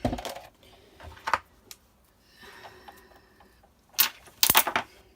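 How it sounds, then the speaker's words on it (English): Small craft magnets snap and click together at close range among die-cutting supplies, with a few sharp taps and a faint rattling patch between them, quiet in between. "It's my magnets jumping together."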